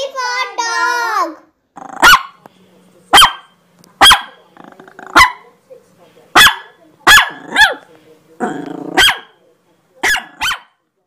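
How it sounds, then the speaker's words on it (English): A dog barking in a children's phonics song, a series of sharp, loud, evenly spaced barks repeating over several seconds, with a voice speaking at the start and in between. "D for dog."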